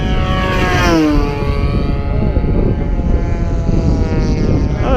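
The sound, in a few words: RC model warbird airplane engine on short landing approach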